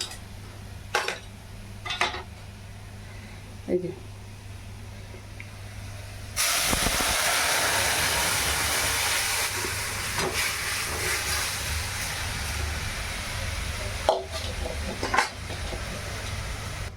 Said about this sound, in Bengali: এবার ফোড়ন দিয়ে দেবো ডালটা